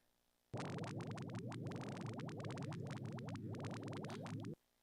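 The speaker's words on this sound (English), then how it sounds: "That's what the binary neutron star confusion noise sounds like." Simulated binary neutron star confusion noise rendered as sound: a dense, continuous wash of overlapping rising chirps sweeping upward in quick succession over a low steady hum, loud and busy for about four seconds before stopping abruptly.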